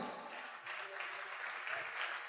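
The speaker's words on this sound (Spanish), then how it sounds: "Dale un aplauso fuerte a Él" A church congregation claps steadily in sustained applause during a worship service, heard from a moderate distance with a muffled, roomy quality.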